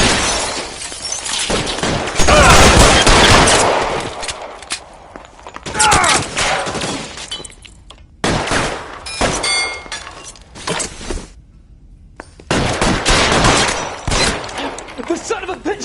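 Gunfire in L.A. Noire, loud cracking shots and rapid volleys tearing through a chaotic firefight, with breaking glass, footsteps and shouting voices between bursts and a brief near-silent gap.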